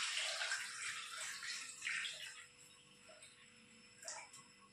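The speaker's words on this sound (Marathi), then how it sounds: "आता हे मी त्याच्यात पाणी ओतणार आहे" Water is poured from a vessel into a pot of partly cooked bitter gourd, a close splashing gush that tapers off, followed by faint clinks and drips in a quiet kitchen.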